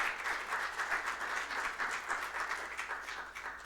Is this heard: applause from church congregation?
yes